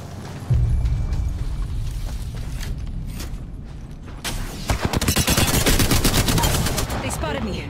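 Rapid automatic gunfire in Apex Legends, dense bursts of overlapping shots that grow louder and more crowded in the second half, with a player talking over the shooting.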